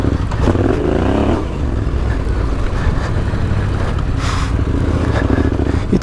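Ducati adventure motorcycle ridden off-road through sand, its engine droning loud and close with rising and falling revs under wind rumble, no talking.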